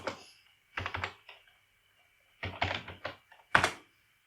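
Keys clatter on a computer keyboard in a few quick bursts of typing with short pauses, ending in a firmer single keypress, close and fairly quiet.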